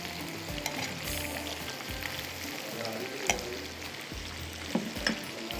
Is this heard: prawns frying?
yes